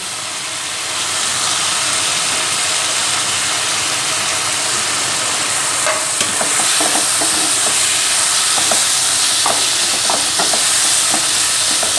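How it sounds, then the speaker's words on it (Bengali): Chicken keema goes into a pan of spiced masala that has been cooked down. A steady hiss of frying fills the air, and scraping and tapping from the stirring grows audible partway through. "আমি এখন এই চিকেন কিমাটা দিয়ে দেবো এতে"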